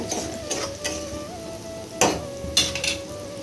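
Ginger garlic paste fries in oil after onions, a steady sizzle with a few sharp clicks of a spoon against the pan and a faint background tone running throughout.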